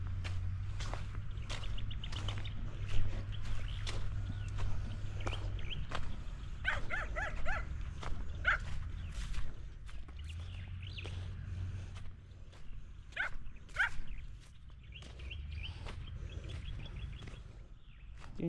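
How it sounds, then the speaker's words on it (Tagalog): A dog barks in short bursts outdoors, with footsteps and rustling in between; the barks come in irregular clusters at moderate distance. "tinatahulan yung aso"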